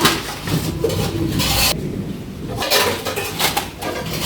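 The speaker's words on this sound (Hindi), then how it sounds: "अभी सब बर्तन यहाँ पर लगाना पड़ेगा।" Metal dishes and pots clatter and clink as they are set out in a home kitchen, a busy run of bangs and scrapes with a brief pause midway, close and fairly loud.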